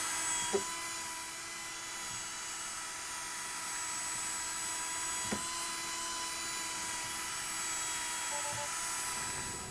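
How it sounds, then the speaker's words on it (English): A small power drill with a scrubbing brush whirs steadily at close range inside a Tesla car, a continuous high motor drone with a couple of brief knocks as the brush works. "this one's ridiculously dirty, so I am going to use my drill brush"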